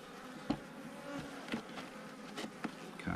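Steady, close buzzing of many honeybees swarming around an opened beehive in January, a continuous droning hum with individual bees passing nearby, no talking.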